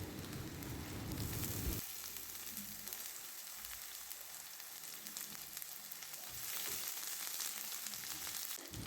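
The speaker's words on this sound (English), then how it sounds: "Fry until it turns golden brown, then add some onions." Sliced okra fries in a pan with a steady, close, hissing sizzle that runs the whole time, easing slightly partway through before building again.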